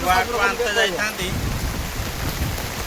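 A brief voice at the start gives way to a steady hiss of rain falling close by, dense and unbroken.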